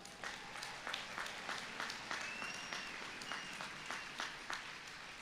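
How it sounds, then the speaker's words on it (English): A large commencement crowd at a university spring 2021 ceremony claps for the graduating class, a dense, even patter of many hands with scattered sharper claps, moderately distant and sustained throughout. "let's give them a round of applause"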